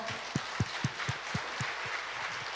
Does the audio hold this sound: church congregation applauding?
yes